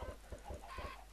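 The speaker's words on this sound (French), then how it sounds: "des petits poulets" Short, soft clucks from chickens in a Minecraft FTB modpack world, a handful of quick pecking calls in an irregular rhythm, fairly faint with no speech.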